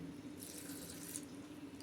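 Water is poured into a grinder jar holding chutney ingredients of chickpeas, green chillies, garlic and coriander, a soft, steady trickling splash lasting under two seconds.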